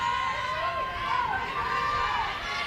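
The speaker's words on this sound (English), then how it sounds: "You hear the Stanford fans cheering her on." Stanford fans cheer from the stands at a women's college softball game against Washington, a steady crowd roar with a faint whistle-like tone drifting through it, sustained throughout.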